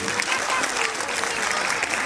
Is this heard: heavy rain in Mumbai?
no